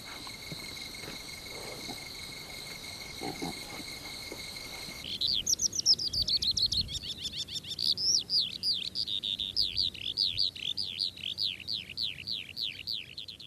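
Wild birds in the Korean countryside give quick, repeated chirps and trills that start partway through and continue steadily, following a thin, continuous insect-like drone, with no voices.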